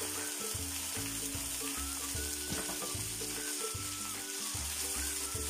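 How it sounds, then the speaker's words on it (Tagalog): Ingredients sauté in a pan and are stirred steadily, making a continuous, fairly quiet crackling sizzle with soft stirring movement throughout and no voices. "Tuloy lang natin yung paghalo-halo mga katropa para hindi masunog yung ginigisa natin."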